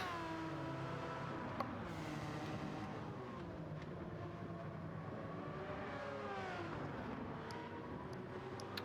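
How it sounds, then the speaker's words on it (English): Racing engines from an LMP prototype and two Group C cars battling at St Croix in Gran Turismo 7, a steady layered roar of revving motors that rises and falls in pitch throughout, loud and continuous. "the LMP and the 2 Group C machines are still battling it out"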